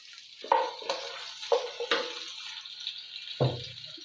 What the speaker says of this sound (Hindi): ये हम लहसुन डाल देंगे इसमें चॉप किया हुआ।